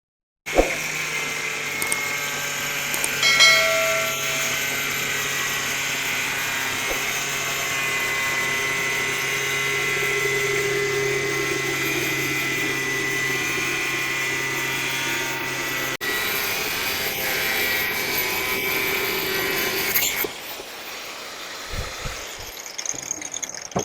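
A power tool cuts through PVC pipe with a steady, loud, high-pitched whine that runs continuously for about twenty seconds, shifts once midway, then stops, leaving quieter handling noise.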